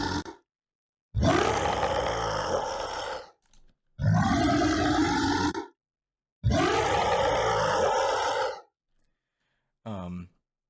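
Monster vocalizations processed with Soothe2 come as three long roaring, grunting growls separated by silence, loud and close, followed by a brief fourth burst.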